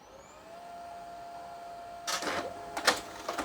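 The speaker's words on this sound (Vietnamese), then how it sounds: "Nó chớp tắt thì mình buông tay ra thì máy in nó sẽ in ra hai cái tờ giấy." An HP NeverStop MFP 1200W laser printer feeds and prints pages, with a faint mechanical whir followed by several short bursts of rolling, clattering paper movement near the end.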